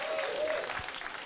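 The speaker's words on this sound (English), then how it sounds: "That's a big round of applause" Audience clapping at a live public question-and-answer event in Bristol, a short dense burst of applause that stays loud across the moment and tapers slightly at the end.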